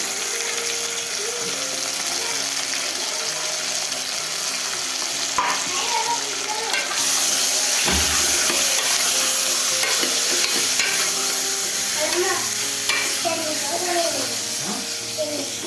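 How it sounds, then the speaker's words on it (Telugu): Washed mutton pieces are added to browned onions in a hot pot and stirred, giving a dense, continuous sizzle with scraping and clattering stirring noises throughout. "ఇప్పుడు మనం కడిగి పెట్టుకున్న మటన్ అయితే వేసేసుకోవాలి"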